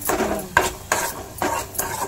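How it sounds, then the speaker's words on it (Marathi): A spoon scrapes through sizzling mustard seeds in a kadai in four rhythmic strokes, close and clear, with a soft frying hiss underneath. "गरम मसाला दाखव, लक्ष्मी, राई, आता मिक्स करून घ्यायचं ना।"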